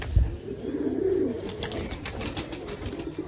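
Domestic pigeons coo in soft low rolling calls, close by, with a faint flutter of wings and light background noise and no talk.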